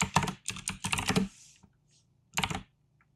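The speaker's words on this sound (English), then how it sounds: "I press the backtick key" Computer keyboard keys pressed in a quick burst of close, crisp clicks, then a short pause and a second brief cluster of taps.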